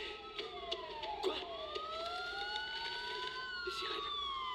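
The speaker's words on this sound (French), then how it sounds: "Les sirènes. La police." Police sirens wail in the video game Batman Arkham Asylum, several overlapping tones rising and falling at once, steady and fairly loud throughout with no talking.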